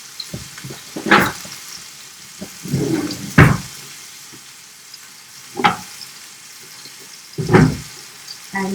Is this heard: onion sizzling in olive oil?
yes